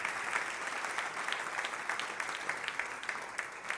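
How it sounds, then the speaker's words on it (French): A church congregation claps loudly in praise during a French service, a steady wash of many hands with a few sharper individual claps standing out, continuous and close, with no talking. "applaudissent bien fort le Roi des Rois"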